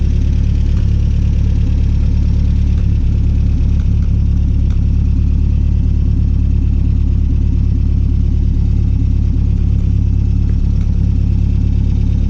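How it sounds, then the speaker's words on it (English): A 1962 MG MGA MkII roadster's engine runs steadily with a loud, dense low rumble that holds even throughout, heard up close with no speech over it. "The car really drives nice, has a great tone."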